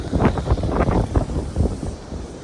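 Strong gusts of wind buffeting the microphone along the Cowles Bog trail in Indiana Dunes National Park, loud irregular thumping bursts and rumbles in quick succession.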